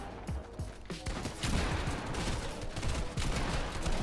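Rapid gunfire in the video game Fortnite, a dense, continuous barrage of overlapping shots and mechanical clatter, loud and sustained across the whole stretch.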